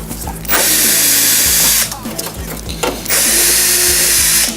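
A power drill or driver whirs loudly in two long sustained bursts with ratcheting, clicking gaps between them while bolting a latch into a 270° rear door, close up with no talk.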